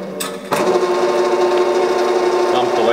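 A lathe spins up while chambering a rifle barrel, starting with a sharp clunk and then holding a steady, loud mechanical whine with a faint rhythmic flutter through the rest.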